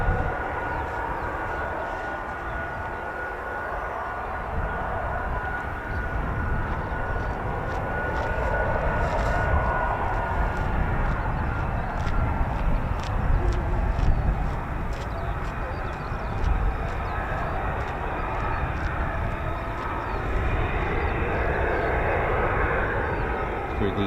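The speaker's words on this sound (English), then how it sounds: "We've had 7 F-35Bs today," Lockheed F-35B stealth fighter jet in flight over RAF Marham, its broad engine roar sustained and fairly distant, swelling slightly mid-pass, with someone talking over it.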